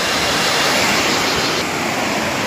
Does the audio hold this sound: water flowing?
yes